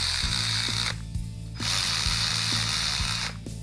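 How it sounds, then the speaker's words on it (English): An electric quarter-inch ratchet runs bolts down with no torque on them during a car build. Up close, it gives two sustained bursts of whirring, clicking drive separated by a short pause, then a brief restart. "We're just going to use the electric 1/4-inch ratchet just to run these down."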